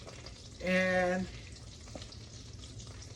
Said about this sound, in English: it's sizzling right now